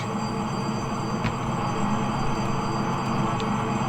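A train rolls through a railway crossing, a loud, continuous rumble of wagons and wheels close by with faint metallic squeals, no voices over it.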